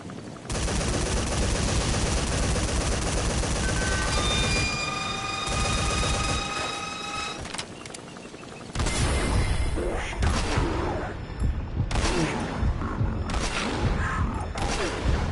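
Heavy gunfire rattles through a Metal Gear Solid V battle, with sustained loud bursts and booms, a brief lull, then renewed sharp shots and explosions continuing to the end.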